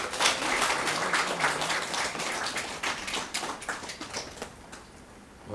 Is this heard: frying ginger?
no